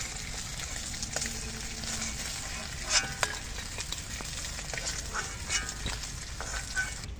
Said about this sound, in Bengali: এবার এই ভাজটা একটু ভালো করে ভেজে নেব।